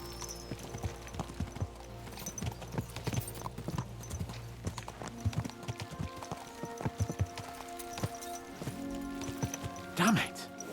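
Horses galloping in Kingdom Come: Deliverance II, rapid rhythmic clip-clop of hooves, steady and fairly close, with a brief neigh near the end and voices talking over it.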